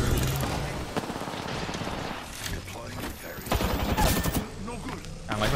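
Bursts of rapid automatic gunfire and scattered shots ring out in a shooter video game, loud and dense throughout, with a player talking over the shooting.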